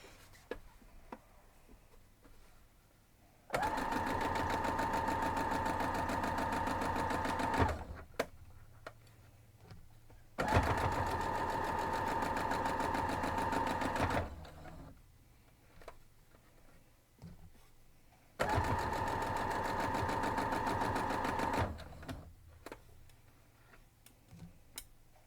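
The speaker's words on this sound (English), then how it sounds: "Let's go sew this up." Sewing machine stitching a gingham quilt block, three steady buzzing runs of several seconds each separated by quiet pauses, close and fairly loud against a quiet room.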